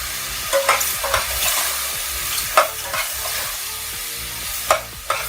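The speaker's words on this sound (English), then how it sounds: "So now that's mixing all together with our mirepoix" Mushrooms and mirepoix stirred with extra virgin olive oil in a pot, with a steady low sizzle broken by several scraping, clacking spoon strokes at irregular intervals, close up and with no talking.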